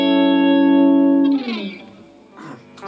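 Electric guitar played through an amp on a clean setting with bass cut and treble boosted: a sustained ringing chord fades after about a second, followed by a few softer picked notes, close and alone.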